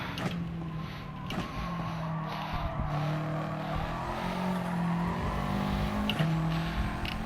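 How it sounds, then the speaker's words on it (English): Subaru race car at Laguna Seca braking hard, engine tone stepping down through gears with faint tire squeal, heard from inside the car over steady road and wind noise. "hard on the brakes."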